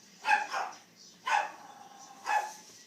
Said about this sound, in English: there's the dogs again.